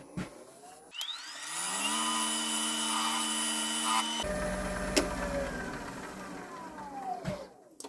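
A wood lathe turns an olive wood rectangular platter as a tool cuts fine shavings. The motor holds a steady tonal whine, then shifts midway into a rougher, broader cutting roar, with sharp knocks near the start and end.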